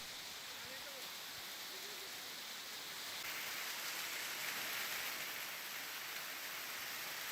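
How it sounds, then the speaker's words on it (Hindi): Heavy rain falls in Mandvi, Gujarat, a dense steady hiss of downpour on streets, loud and broadband, swelling slightly midway and continuing without pause. "गुजरात के मांडवी में भारी बारिश हो रही है"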